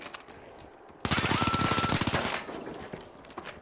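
An automated turret in the video game The Finals fires a rapid burst of close, loud shots for just over a second, then leaves a fading echo and low background rumble.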